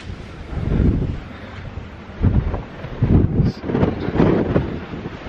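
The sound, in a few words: strong wind blowing at the top of Peel Tower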